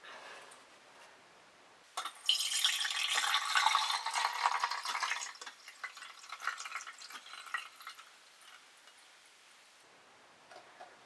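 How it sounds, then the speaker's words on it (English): Homemade fermented ginger beer poured and draining through a sieve, a rushing splash that starts abruptly and then tapers into a softer trickle, heard close with no talk. "we're going to drain it through a sieve"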